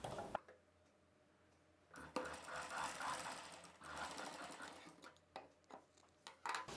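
A sewing machine stitches fabric for a long gown in several close bursts of rapid mechanical chatter, with quiet pauses between the runs.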